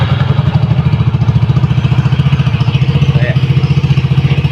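A Honda Mio i 125 scooter engine fitted with an aftermarket open muffler pipe idles loud and close, a steady rapid throbbing putter with a raspy edge, no talking over it.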